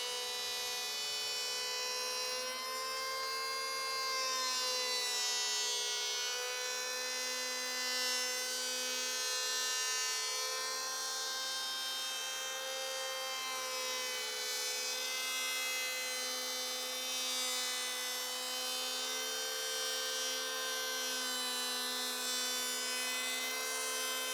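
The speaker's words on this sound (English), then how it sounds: "I used a power planer to create a smooth, flat surface to make a good glue joint." A power planer drones steadily with a high, buzzing tonal whine as it smooths plywood flat for a glue joint on a boat build, running continuously and close.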